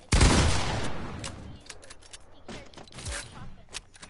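Shotgun fire in a video game, a loud close blast at the start followed by a second shot and scattered fainter reports, with no talking.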